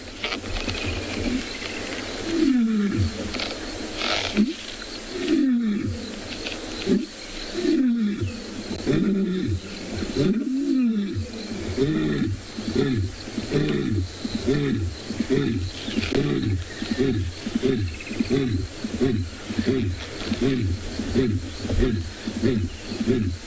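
A lion on an afternoon safari in South Africa delivers a loud, close roaring sequence: several long, powerful roars followed by a rhythmic run of shorter grunting calls that gradually taper off.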